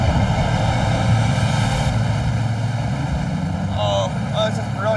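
Two 550-horsepower, 8.3-litre diesel boat engines drone loudly and steadily pushing up rapids on the Colorado River, a thick throbbing roar with rushing water noise, while a voice speaks over it near the end.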